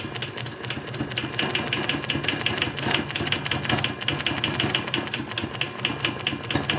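Sewing machine running continuously with a ruler foot while quilting a block, a steady fast needle chatter that stays close and even throughout with no talk.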